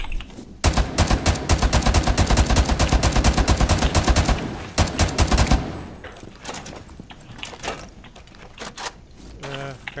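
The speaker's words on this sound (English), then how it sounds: "if I shoot a castle barricade enough times with a machine gun, will it break?" A machine gun fires a long, loud, rapid burst at a castle barricade in the Rainbow Six Siege video game. A shorter burst follows, then quieter game sounds.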